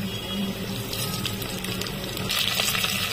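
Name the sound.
whole spices sizzling in hot oil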